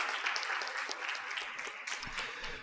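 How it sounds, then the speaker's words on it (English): Steady applause from a workshop crowd fills the space, dense and continuous clapping without pause. "a round of applause to all of you for making it this far"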